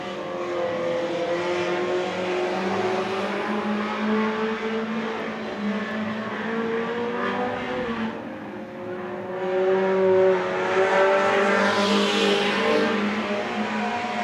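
Mini stock race cars lapping Winston Speedway during a main event, engines droning and revving continuously, loud and steady with shifting pitch as cars pass, no talk.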